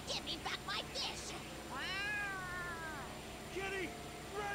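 Cat in the video game Like A Dragon giving several drawn-out meows, close and clear over a low game hum, with a short burst of other voices at the start.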